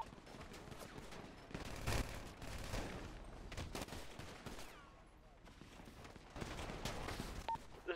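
Gunfire in the video game GTA 5 crackles in bursts and rapid volleys, fairly faint and somewhat distant, mixed with other game noise.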